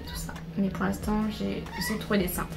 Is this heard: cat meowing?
yes